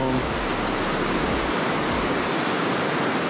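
Steady, loud broadband rush of a waterfall pouring into a clear trout creek, continuous and close with no voices.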